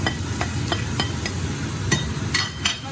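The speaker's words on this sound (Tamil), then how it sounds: "இப்போ எல்லாம் சேர்த்து நல்லா வதக்கி எடுத்துடலாம்" Onions sautéing for a chicken roll filling, with a steady low sizzle in the pan and repeated stirring scrapes that come at irregular intervals and stay moderately loud.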